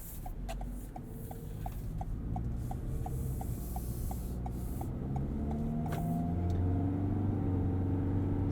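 A 2022 Toyota Corolla Cross XLE AWD engine under light acceleration, a steady low hum with a gently rising drone heard from inside the cabin, accompanied by a regular faint ticking.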